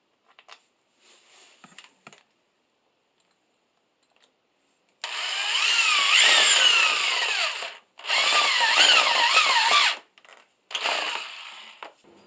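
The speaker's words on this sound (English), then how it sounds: "To attach the end boards to the tabletop, I use the same pocket hole screws" A power drill drives pocket hole screws into a wooden pipe-leg pub tabletop to fix the end boards, with two long, loud whirring bursts and a shorter third one after faint clicks and handling noises.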